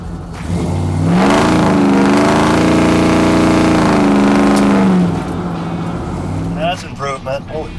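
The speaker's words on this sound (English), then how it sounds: "we're leaving the shop in the 72 short wide pickup. First time to drive it." A 1972 Chevy short-wide pickup truck, built into a pro-touring hot rod, accelerates loudly while driving, its engine rising and sweeping in pitch before easing off, with a voice briefly heard near the end.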